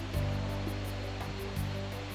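Na Muang waterfall on Koh Samui after overnight rain, a constant loud rush of falling water heard close, with no voices over it.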